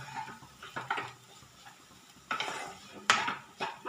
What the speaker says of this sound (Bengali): এবার এই মশলাটাকে একটু খুন্তি দিয়ে ভালো করে চেপে চেপে আলু মশলা এই সমস্তকে ভালো করে মিশিয়ে দেবো।